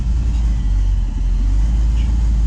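An LS-swapped Chevy engine idles steadily with a loud, continuous low rumble as the air conditioning is switched to maximum, the idle holding a dense, even drone throughout.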